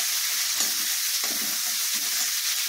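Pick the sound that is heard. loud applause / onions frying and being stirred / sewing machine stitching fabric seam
onions frying and being stirred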